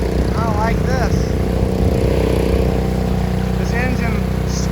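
Mud motor boat engine on the Powder River in Montana running hard, a loud continuous droning whine with steady harmonic hum, while a voice speaks over it in short excited bursts.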